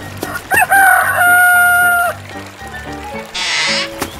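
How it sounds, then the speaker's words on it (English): A rooster crows loudly in a long drawn-out call, followed by short clucks and other farmyard animal noises, all close and clear. "Chicken."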